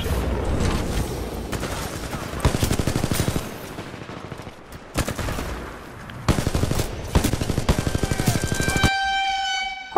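Enemy gunfire in the video game Titanfall 2, repeated loud automatic bursts with short gaps, ending in a brief electronic tone.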